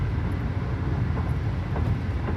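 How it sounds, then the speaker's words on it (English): A train rolls across a bridge, heard as a steady low rumble with faint clattering, continuous and moderately distant throughout. "There's also a train going across it right now."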